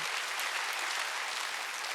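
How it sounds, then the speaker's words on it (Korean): A church congregation at a Sunday worship service claps in sustained, dense applause that fills the room evenly from start to finish. "박수야. 이걸 누리라는 거예요."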